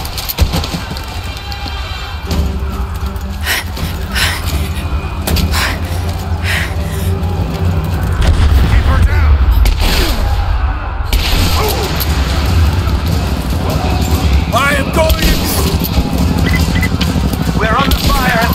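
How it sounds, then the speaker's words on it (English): Gunfire and heavy booms from Rise of the Tomb Raider rage at the edge of a village in the Geothermal Valley, a dense, continuous barrage of shots and blasts with voices shouting over the chaos. "We're under fire at the edge of the village."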